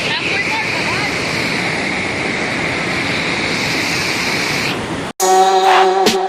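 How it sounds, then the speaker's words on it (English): A waterfall at the end of a hike roars as a dense, steady rush of water for about five seconds, close and loud. It cuts off abruptly and is followed by a brief, different tonal sound. "Alright, so this is the waterfall. Really nice waterfall."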